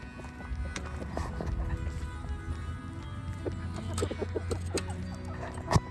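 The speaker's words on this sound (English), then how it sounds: "Here come the chickens. Happy chickens." Several chickens cluck and squawk in short bursts, nearby and fairly quiet, with scattered footsteps and rustling over a low background murmur.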